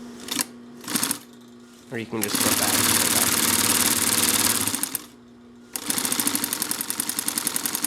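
Singer 44-9 walking foot sewing machine running at speed in long steady bursts of rapid stitching, stopping and starting, with someone talking briefly in between.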